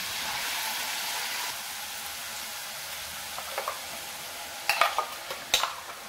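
Ginger, chili, coriander and garlic paste sautéing in hot oil in a frying pan, a steady close sizzle for the first seconds that thins out, followed by several sharp stirring scrapes and clicks of a spoon against the pan.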